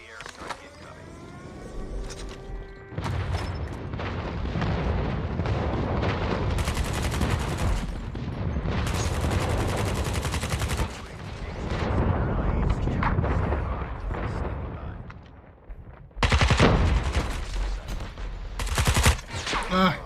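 A video game battle fills the air with bursts of gunfire and heavy explosions, dense, loud and continuous with short pauses, while game radio voices speak over parts of it.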